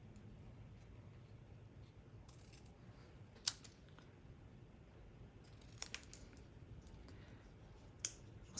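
Scissors trim card stock for a black and gold birthday card, making a few faint, sharp snips against a quiet room background.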